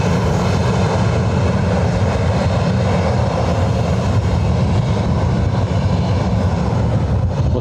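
A passenger jet lands at Lanzarote Airport, its engines giving a steady, loud roar that holds throughout with no break.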